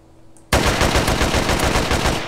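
A sudden burst of rapid automatic gunfire in the survival video game DayZ, loud and continuous after a brief quiet start.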